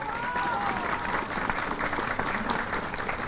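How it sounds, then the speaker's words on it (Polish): Sustained applause from a crowd at a dożynki harvest festival in Pilzno municipality, Poland, a dense, steady clapping that holds for the whole stretch with voices mixed in. "Również gromkie brawa, witamy pana starosty."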